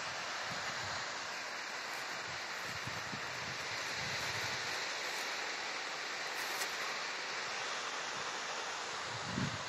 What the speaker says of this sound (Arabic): هذا هو شلال جرموك.